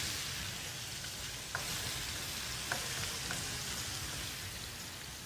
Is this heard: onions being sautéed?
yes